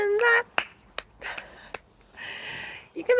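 A few sharp, isolated finger snaps spaced irregularly between bursts of a voice, crisp and close, each a single short crack.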